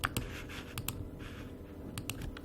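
Keys clatter on a computer keyboard as JavaScript code is typed, a quick run of close, sharp clicks with short pauses between bursts.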